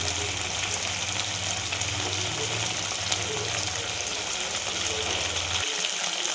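Red chilli sauce, schezwan chutney and soy sauce mixed in a hot pan for chicken dum biryani; a constant dense sizzle with faint stirring scrapes and a low hum underneath, no talk.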